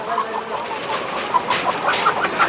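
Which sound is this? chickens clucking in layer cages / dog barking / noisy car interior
chickens clucking in layer cages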